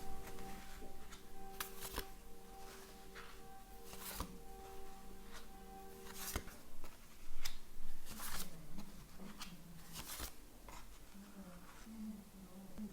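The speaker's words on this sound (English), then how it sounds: "Deep breath, cut the cards." Tarot cards are cut and shuffled by hand in sharp papery riffles and snaps, several separate bursts spread across the stretch, with a voice talking softly at times between them.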